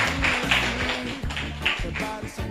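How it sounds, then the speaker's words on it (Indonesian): A group claps hands together at a youth reproductive health outreach session, a dense, fairly loud patter of overlapping claps with rhythmic bursts and some voices mixed in underneath. "Tepuk tangan buat kita semua"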